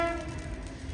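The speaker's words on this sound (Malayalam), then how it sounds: "പോകാനുള്ള ട്രെയിൻ പ്ലാറ്റ്ഫോം നമ്പർ 2 കടന്നു വരികയാണ്" The Trivandrum Express, hauled by a WP7 locomotive, pulls into platform 2, its horn sounding as a sustained tonal blare over a low rumbling rail drone, close and fairly loud.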